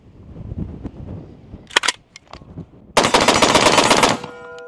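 A Bilson Firearms forward-charging pump-action style AR rifle fires a fast, loud burst of shots that lasts about a second, after a few sharp mechanical clacks.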